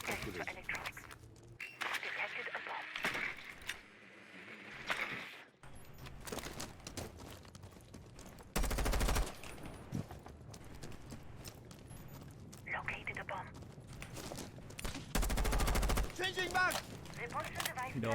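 Gunfire in Rainbow Six Siege, with two loud broadband bursts of shots standing out amid ongoing game noise, footsteps and players talking over it.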